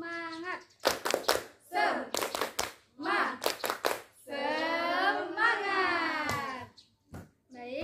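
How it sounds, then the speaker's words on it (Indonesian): Schoolchildren perform a rhythmic group clapping chant in a classroom, tight bursts of claps alternating with sung and shouted phrases, voices loud and close between the clapping patterns. "ayo kita tepuk semangat terlebih dahulu sebelum kalian pulang."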